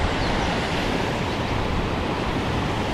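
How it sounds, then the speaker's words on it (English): Careyburn Waterfall spills down several drops into splash pools, a constant broadband rush of water heard close and loud with no voices. "this is your CAREYBURN Waterfall, people, and as you can see, it comes down several drops"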